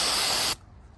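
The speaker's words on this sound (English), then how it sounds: "Use some brake spray and a rag." A sustained burst of brake cleaner spray hisses loudly against a 2002-2008 Toyota Corolla engine surface, lasting about half a second before cutting off abruptly into quiet.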